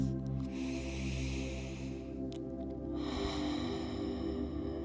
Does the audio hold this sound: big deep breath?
yes